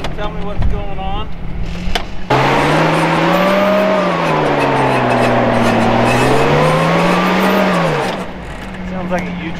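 Vehicle with a failing U-joint driving close by during a difficult recovery, a steady loud drivetrain drone with rising and falling whine for several seconds, bracketed by people talking before and after.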